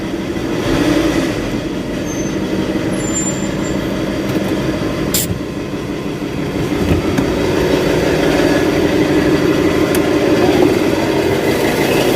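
Ford Ranger 3.2 Wildtrak engine running roughly before an overhaul, a continuous uneven clattering drone with a rapid irregular knock pattern and a slight rise in loudness toward the end, with no talk over it.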